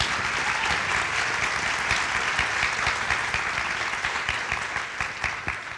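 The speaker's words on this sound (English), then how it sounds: "Can we just give all these people a huge round of applause?" An audience at a healing communities event bursts into a big round of applause, dense, sustained clapping filling the room for several seconds, steady throughout and only slightly thinning toward the end, with no talk over it.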